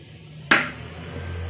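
A spoon striking a bowl once while cucumber juice is mixed, a single sharp clink followed by a faint ringing decay and low background hum.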